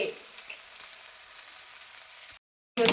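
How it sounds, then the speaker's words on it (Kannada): Thick onion dosa roasting on a hot pan, a steady close sizzle that stops abruptly for a moment, then resumes loudly. "ಇದನ್ನ ಜಾಸ್ತಿ ರೋಸ್ಟ್ ಮಾಡ್ಬೇಕು ಫ್ರೆಂಡ್ಸ್ ಕಪ್ಪಗಾಗೋ ತರ ರೋಸ್ಟ್ ಮಾಡ್ಬೇಕು"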